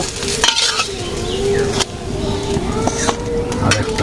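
Eggs frying in a pan in a village home kitchen, a steady sizzle close by with scattered clinks and scraping of a utensil, and some faint background noise.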